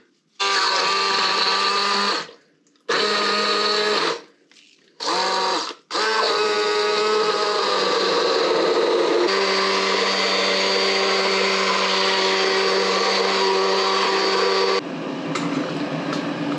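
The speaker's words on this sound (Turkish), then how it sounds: "dilerseniz tabii ki mikser aletiniz varsa onunla da çekebilirsiniz" An electric blender whirs loudly in three short bursts, then runs continuously for a long stretch pureeing ghost pepper and roasted tomato sauce before the motor pitch shifts near the end.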